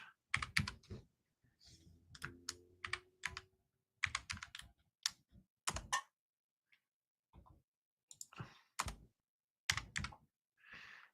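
Keys on a computer keyboard clack in irregular bursts, close and crisp, with short pauses between runs of typing and no voices.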